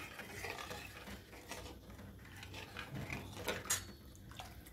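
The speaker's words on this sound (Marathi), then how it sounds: "याला अशी उकळी येईपर्यंत सतत असा चमचा देत राहायचं" A spoon stirs kadhi in a pot, giving soft, irregular scraping and clinking sounds, quiet and close, with no voices.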